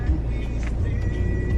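Steady road traffic rumble with cars moving along a northbound highway in the Philippine provinces, a continuous engine drone near and fairly loud with faint voices in the background.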